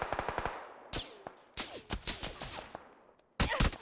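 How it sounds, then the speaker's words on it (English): Gunfire in PUBG on console, a burst of rapid automatic shots followed by scattered single cracks and a final loud volley, echoing across open terrain with no talking. "Oh, I'm getting shot from uphill."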